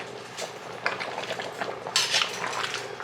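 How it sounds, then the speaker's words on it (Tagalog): Potatoes being stirred in a cooking pot, with a utensil scraping and clinking against the pot in a steady run of close, moderately loud strokes and a brighter scrape near the end. "Haluin natin ulit."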